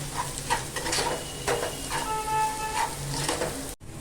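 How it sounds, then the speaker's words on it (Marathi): Turmeric and Malvani masala sauté in a pan for egg bhurji, a soft continuous sizzle broken by repeated scraping stirs from a spoon. The sound is close and steady and cuts off abruptly just before the end. "दोन चमचे मालवणी मसाला हे पण ना एक मिनिटासाठी आपण असं परतून घेऊया"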